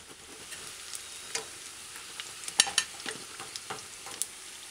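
Flour fritters frying in oil in a pan on a stove at medium-low heat, giving a soft steady sizzle with scattered crackles and pops, a few sharper spits standing out; no talking.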